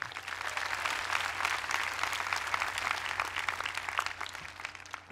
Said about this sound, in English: Let's have a round of applause for these family, friends, and mentors, please